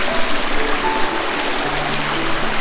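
A river stream flows near a waterfall, a loud steady broadband rush of water filling the whole clip, close by and continuous with no speech.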